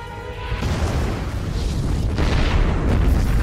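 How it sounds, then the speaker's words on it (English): A film explosion erupts as a loud, deep boom that swells and rumbles on without fading through the whole short stretch, with no voices. "In the end, Rhodes survived the explosion"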